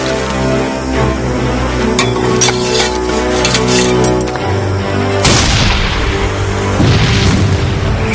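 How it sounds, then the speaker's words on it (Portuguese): Artillery shells and shrapnel bursting overhead at the Battle of Gettysburg, loud repeated booms and sharp cracks over a dense rumbling battle din, with a heavier blast partway through. "Projéteis e estilhaços explodiam sobre a cabeça dos inimigos."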